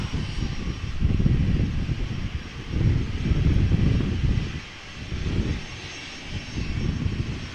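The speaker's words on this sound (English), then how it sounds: "Bombardier Challenger 350, 8 years old, first flight January 2015." A VistaJet Bombardier Challenger 350 business jet rolling at Amsterdam Schiphol Airport gives a steady, broad engine roar that swells and eases in several waves, moderately distant, with no voices.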